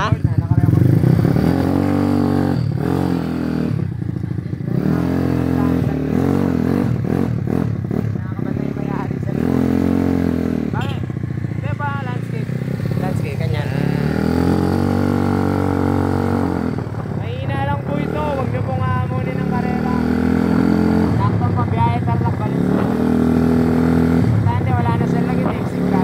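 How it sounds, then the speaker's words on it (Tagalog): A motorcycle with a noisy, clattering Koso carburetor runs steadily nearby, its engine drone and rattle continuing under frequent talking throughout. "medyo maingay na ang kanyang koso carb. Yung parang kalampag sounds"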